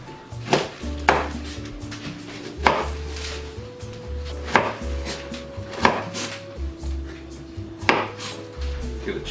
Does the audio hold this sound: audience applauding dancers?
no